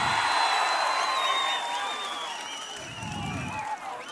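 A crowd at a political rally claps and cheers loudly from the start, keeping up a dense, distant wash of applause with whistles that eases slightly toward the end.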